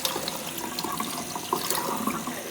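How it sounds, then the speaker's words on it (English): Cold tap water running steadily over rice in a sieve, a continuous splashing wash with small irregular spatters, close and moderately loud. "all I'm going to do is run this under cold water for a few minutes"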